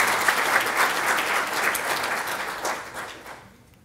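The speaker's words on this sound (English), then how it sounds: "let's have a round of applause for our directors" An audience at a chamber of commerce annual general meeting applauds its directors, a full burst of many hands clapping that holds steady and then fades out near the end.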